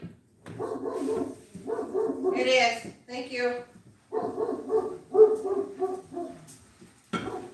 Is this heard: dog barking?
yes